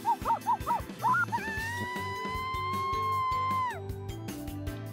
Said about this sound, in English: I could hear Kotaro's barking